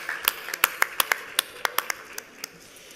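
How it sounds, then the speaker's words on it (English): Audience applause at an award ceremony comes as a thin scatter of distinct handclaps, fairly close and moderately loud, that fades off after a few seconds. "A round of applause for them as well, please."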